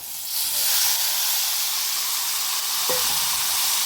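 Marinated banana flower sizzles in a pan of hot oil alongside fried potatoes and onions, giving a loud, steady hiss of frying that runs unbroken throughout, with one brief clink partway through.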